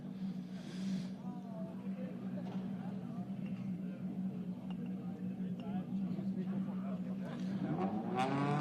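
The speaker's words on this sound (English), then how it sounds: "As the TCR car start moving away from the pit lane there" TCR race cars pull away from the pit lane at Paul Ricard, engine tones droning and rising in the distance under a commentator's ongoing talk.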